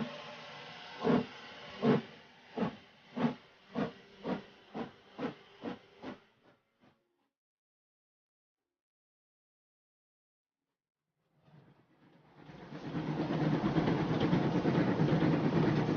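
A steam locomotive chuffs in an even rhythm that slows and fades to silence, then a loud, steady hiss of released steam swells and holds.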